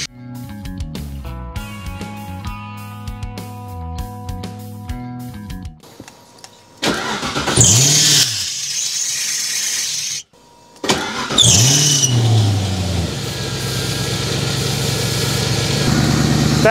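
A V8 engine swapped into a Porsche 986 Boxster track car idles through a new, quieter exhaust, starting up after a steady electric whine, then revving and settling into a rumbling idle with a short break between runs.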